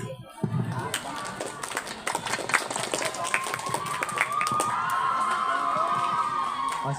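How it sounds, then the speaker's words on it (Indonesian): Applause and cheering from a school audience for a class 7C group that made layer cake at a local-wisdom student showcase, with scattered claps, shouts and voices building into a sustained crowd roar. "Beri tepuk tangan yang meriah untuk kelompok kue lapis."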